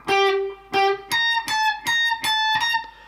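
Electric guitar plays the fourth bar of a riff, a run of about eight distinct picked notes: two lower, then rapid alternating high notes, close, clean and without any voices.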